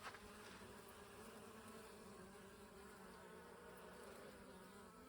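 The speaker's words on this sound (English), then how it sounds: "So bees are trying to take all the honey that they still can do" Bees buzz steadily around blooming physalis plants inside a greenhouse, a continuous, even drone of several insects close by with no voices.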